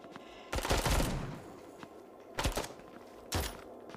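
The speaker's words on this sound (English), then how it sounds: "They're shooting right over there." Gunfire in the mobile shooter Bullet Echo: three separate bursts of rapid shots, the first long and loud, the other two shorter, with quiet gaps between them.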